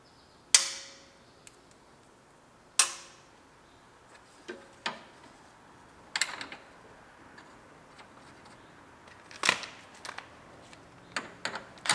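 A new horn bolted into an Acura RDX, heard as scattered metallic clicks, taps and ratcheting ticks at close range, with quiet gaps between them.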